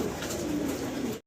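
Pigeons coo steadily at a pigeon farm run by an expatriate owner, a dense, continuous murmur of several birds close by, ending in abrupt silence just before the end.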